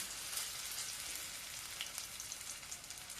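Rose-shaped pastries fry in a pan, a faint, steady hiss of sizzling oil with scattered light pops and no voices.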